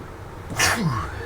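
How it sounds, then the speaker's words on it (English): A single sneeze bursts out close by, a sharp explosive burst followed by a brief trailing exhale. "bear with me, I'm going to sneeze."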